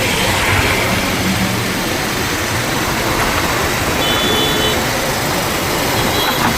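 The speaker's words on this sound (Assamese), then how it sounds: "তাৰপিছত ট্ৰেইন আহিছে, ট্ৰেইন।" A train rumbles past near a wetland lake, a loud, steady broadband roar that holds unbroken for several seconds with no voices over it.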